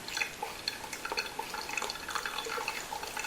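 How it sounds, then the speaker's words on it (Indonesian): Water poured over ground coffee in a V60 dripper, a continuous trickling and dripping stream with small splashy plinks, close and moderately loud. "Kita tuangin sampai habis airnya."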